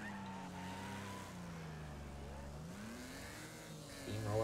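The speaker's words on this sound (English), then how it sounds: "Look out, cars coming through." Race cars roaring through a Wreckfest demolition derby, engine tones rising and falling as vehicles pass close, ending with a louder surge.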